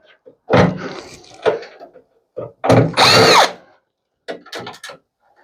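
A power tool whirs in several short bursts, unscrewing a circuit board inside a microwave, up close, with brief pauses and clunks between the runs.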